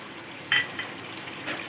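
Green chili, garlic and ginger paste sizzles in a pan, a quiet steady frying hiss with a brief sharper crackle as it is stirred, no voices.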